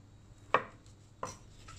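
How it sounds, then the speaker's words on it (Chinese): Two sharp knife chops on a chopping board as washed shiitake mushrooms are cut in half, crisp isolated thuds about 0.7 seconds apart in a quiet kitchen. "现在将洗干净的冬菇放在砧板上，将冬菇切成两份。"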